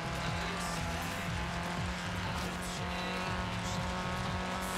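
A car drifting in the video game Forza Horizon 3 produces a continuous engine drone overlaid with repeated, rising tire squeals in a rapid rhythmic pattern, steady and moderately loud throughout.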